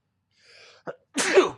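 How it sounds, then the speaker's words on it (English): A single close sneeze: a soft preparatory inhale and catch, then a sharp, loud burst of air, heard alone in a quiet room. "Oh my gosh, I'm about to sneeze."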